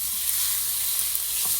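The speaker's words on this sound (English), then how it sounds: "so now we want to stir this" Minced garlic sizzling in a hot pot for broccoli cheese chowder, a continuous hiss with a couple of light stirring scrapes near the end, close up and without speech.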